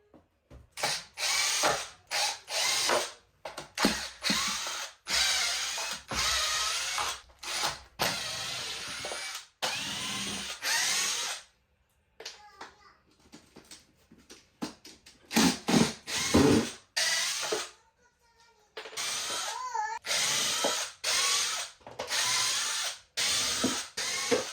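A power drill backs screws out of a bathroom subfloor in repeated short bursts of whirring and ratcheting, each stopping and starting with brief pauses between, close and fairly quiet.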